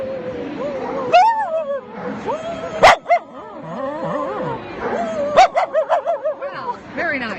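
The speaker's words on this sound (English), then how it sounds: "What does a Mudik do?" A Mudi, a Hungarian herding dog named Jewel, barks repeatedly at close range in uneven bursts with yips and whimpering tones, ending in a quick run of barks, while a person speaks at points.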